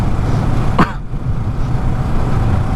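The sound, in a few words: car driving, engine and road noise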